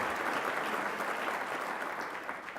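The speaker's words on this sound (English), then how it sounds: "Let's give them another round of applause for their partnership and leadership." Steady, sustained applause from a large audience at the 2018 Tempe State of the City address, a dense even clapping that fills the whole stretch without a break.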